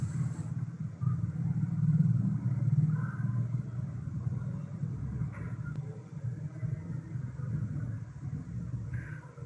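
A motorbike, switched on by a voice command, idles with a steady low engine rumble throughout. It is continuous and moderately loud, with faint background sounds over it.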